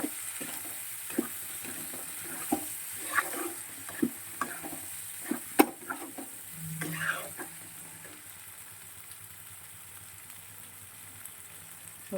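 Bay leaves drop into spices frying in a pan, making a continuous gentle sizzle broken by repeated stirring clicks and scrapes in the first half, then a quieter steady fry.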